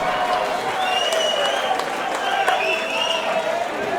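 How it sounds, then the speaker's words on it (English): A fight-event crowd applauds and cheers a fighter's introduction, loud and sustained throughout, with shouting voices and an announcer-style voice mixed into the dense noise. "Can you come and give me a round of applause, please?"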